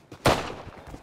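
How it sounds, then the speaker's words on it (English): A single sharp firework bang in the Rust video game, a loud broadband burst with a short decaying tail and a faint thump just before it. "What the fuck? Fireworks?"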